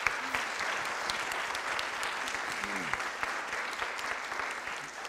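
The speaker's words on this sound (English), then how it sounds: "let's give them a round of applause" Audience at a Fresno city council meeting gives a round of applause, steady dense clapping lasting throughout, with a few voices faintly mixed in.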